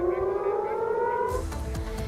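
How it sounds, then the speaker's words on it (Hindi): An air raid siren wailing in Israel after a drone attack, a steady sustained tone with rumbling noise joining partway through, no voices. "तमारा इलाके में ड्रोन आने के बाद सायरन भी बजने लगे।"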